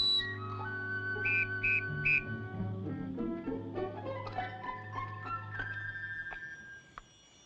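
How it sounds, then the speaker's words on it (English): A shrill whistle made from an eagle's wing bone gives several short high blasts, then wavering tones drift down and fade, with a faint hum beneath. "Whistle made from wing bone of eagle."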